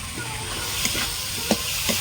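Fried lentil pieces being sautéed into an oily gravy with a steady close sizzle, punctuated by a few soft stirring scrapes; no talking.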